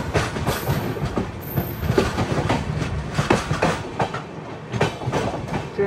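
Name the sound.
Shantiniketan Express train arriving at a station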